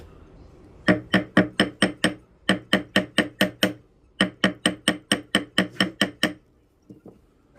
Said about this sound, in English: we need to get our ball peen hammer, and we are just going to tap on the bottom here.